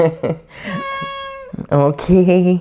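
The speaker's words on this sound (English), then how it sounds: "That's my cat" A domestic cat meows indoors at close range, with a few drawn-out tonal calls sounding between short bursts of a person speaking.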